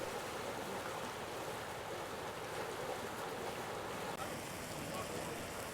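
Water gushes steadily from the ground on a street, a continuous broadband rushing wash like surf that stays loud and even throughout, with no pause.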